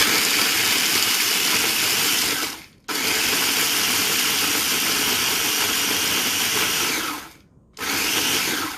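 A Walmart Mainstays 1.5 cup one-touch pulse mini food chopper runs loud and close, chopping food with a harsh, steady motor whine broken by two brief pauses between pulses.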